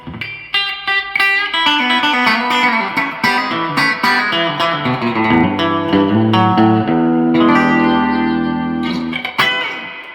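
Electric guitar chords ring out through an HH Electronic Digital Multi Echo pedal with reverb at full, notes washing together into a long, dense tail; loud and steady, with no talking.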